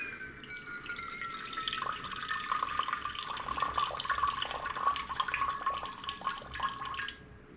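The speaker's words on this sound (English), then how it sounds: "Let's put the water in. So we need just 100 grams of water." Lukewarm water pours steadily into flour for pizza dough, a continuous trickling, splashing stream heard up close for several seconds before stopping abruptly.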